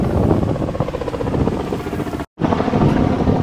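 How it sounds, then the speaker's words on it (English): A helicopter giving chopper rides passes overhead, a loud continuous rotor and engine roar with buffeting wind noise, briefly cut off and then resuming. "Oh, it's the chopper ride one."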